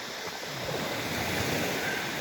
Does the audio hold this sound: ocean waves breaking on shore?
yes